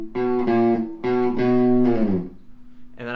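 Distorted electric guitar plays a chugging chord riff, loud, up close and on its own: two short stabbed chord bursts, then a held chord sliding down into a pause.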